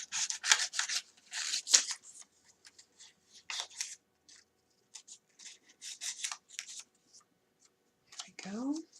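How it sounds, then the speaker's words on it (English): Scissors snipping through the pages of a thrift-store French book, giving short dry cutting and rustling bursts in irregular clusters up close, with paper handling noises between cuts. "Okay, and then I can just kind of cut pieces."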